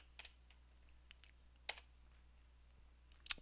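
Sparse keystrokes on a computer keyboard entering a short command during a 64-bit virtual pinball software upgrade: a few soft, separate clicks spread out in a quiet room, ending in a quick louder cluster.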